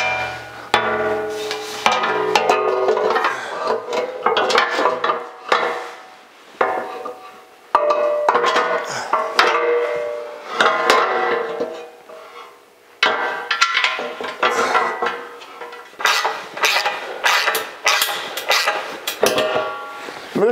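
Work on a 1982 Jeep CJ7 as a cross member is bolted in: steady metallic clanks, knocks and rattles of tools and parts, irregular and close, with brief pauses.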